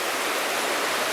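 Steady broadband rush of creek water flowing at a remote miner's camp in the forest near a mine, continuous and fairly close with no talk over it.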